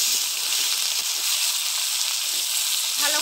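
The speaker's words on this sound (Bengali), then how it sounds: "ভালো করে ভেজে নেব পেঁয়াজটা" Chopped onion, garlic and bay leaf sizzle in hot oil in a karai (wok) over a clay stove, a loud, steady close-up frying hiss with a few soft crackles and no talking.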